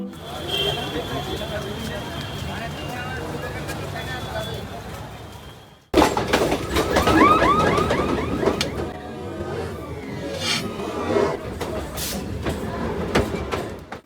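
A commuter train ride past Kidderpore near Prinsep Ghat in Kolkata, a steady rumbling roll with rattling carriages and a sharp jolt midway, with voices talking over it throughout.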